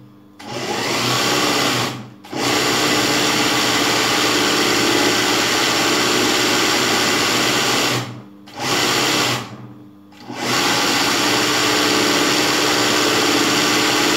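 Embroidery sewing machine stitching a zigzag pattern, running loud and steady with a close, buzzing drone, stopping briefly three times before resuming.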